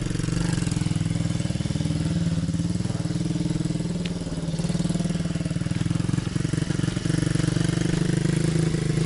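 A motorcycle engine labours uphill with a steady, buzzing drone that rises and falls slightly as the throttle is held, close and continuous throughout.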